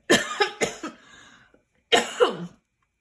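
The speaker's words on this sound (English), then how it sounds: "Somebody's cooking something that is making me cough." A person coughs several times in close, sharp bursts, three quick coughs followed by a pause and then one more cough, all in a quiet indoor room with no talk.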